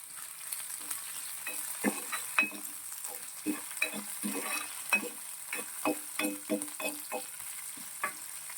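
Ginger, green chillies and curry leaves with mustard seeds frying in oil keep up a soft background sizzle, broken by frequent close scrapes and taps as a spoon stirs the pan.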